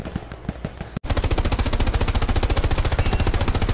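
Video game gunfire in a first-person shooter as bullets strike an enemy soldier's helmet: a few scattered shots, then a loud, rapid, steady automatic burst that continues without pause.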